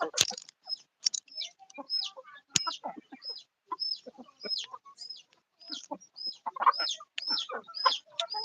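A hen on a poultry farm being fed, giving a steady run of short, bright clucks and chirps close by, repeated in quick bursts with no talking.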